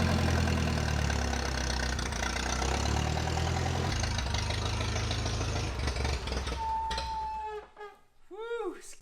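A forklift engine idles steadily nearby with a low, constant rumble that fills most of the clip, then drops away as a voice speaks toward the end.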